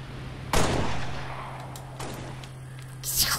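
Gunfire in a Halo parkour game: a sharp shot at first, then another fainter shot, with a burst of crackling near the end over low background hum.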